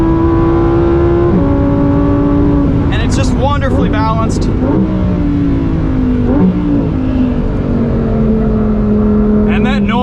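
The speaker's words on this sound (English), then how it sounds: "It's got to be one of the best engine sounds in the business right now." A 2023 Lamborghini Huracan Tecnica, mid-engine and rear-wheel drive, accelerates hard through the gears, its loud engine note climbing and dropping sharply at each upshift while someone talks over it from inside the car.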